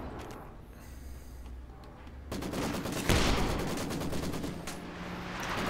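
Maxim machine gun fire in Company of Heroes 2, a quieter stretch giving way to a sudden loud blast and then rapid rattling bursts of gunfire continuing to the end.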